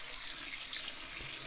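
Water is poured through a coffee filter during a varroa mite wash on honey bees, giving a soft, steady trickling splash that is fairly quiet and continuous.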